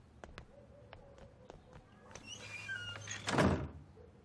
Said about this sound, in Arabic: ليش فات وضرب الباب هيك؟